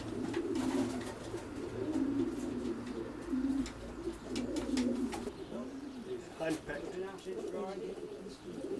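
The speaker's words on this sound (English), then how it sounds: "This is the scene inside George's stock loft, and the pigeons got bags of room." Racing pigeons coo steadily inside a spacious stock loft, a continuous low, rolling chorus of overlapping calls from several birds throughout, with a few sharper chirps and rustles near the end.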